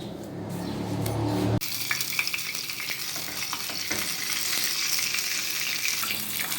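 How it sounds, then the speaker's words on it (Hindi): A pat of butter melts into hot ghee in a pot for sheer khurma, giving a bright, even frying sizzle close up after a short muffled moment at the start, with faint stirring underneath. "जिस पतीली में मैंने घी डाला था उसमें मैंने ये मक्खन की टिकिया डाल दी है"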